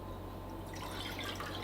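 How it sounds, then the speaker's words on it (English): A cup of water pours into a pan, a faint trickling and splashing that swells after a quiet start, heard alone and close. "we're going to put the cup of water in a pan"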